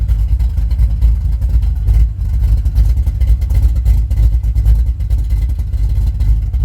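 A 1940 Ford Coupe engine idles with a deep, throaty rumble from dual exhaust off ceramic headers through mufflers, steady and close, with slight pulses in the low burble throughout.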